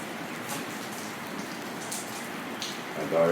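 Steady rain patters onto black concrete on a desolate night, a soft continuous hiss of drops with a slightly louder swell near the end; no talking.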